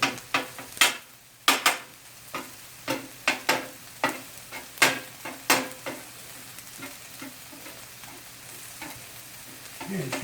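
Chicken fried rice sizzles steadily in a hot pan while a utensil scrapes and stirs it in a run of sharp, irregular strokes, close and alone with no talking.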